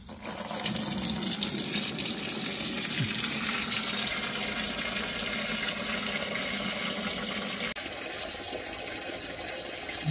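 Tap water running steadily into a container being filled to water plants, a continuous gushing splash close by that shifts slightly in tone as the container fills.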